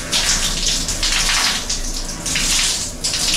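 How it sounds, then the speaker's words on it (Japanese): Steady rushing spray of water pouring continuously from a shower in a private shower booth at a sauna, close and fairly loud, with no voices over it. "先にシャワーを浴びさせていただきます。"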